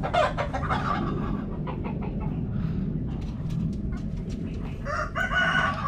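Flock of darag native chickens and roosters on a farm, overlapping clucks and a rooster crowing a little distance off, busy continuous barnyard calls throughout.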